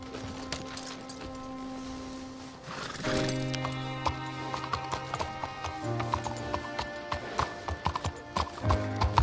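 Rhythmic hoofbeats of a horse at a steady gallop in the video game Red Dead Redemption 2, with a sustained musical score running underneath and a brief whinny.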